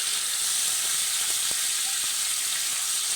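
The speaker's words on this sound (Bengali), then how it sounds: "সবজিটা ভালো করে ভেজে নিচ্ছি" Vegetables fry in a pan in a home kitchen, giving a constant close, loud sizzle and hiss with a few faint clicks and no talking.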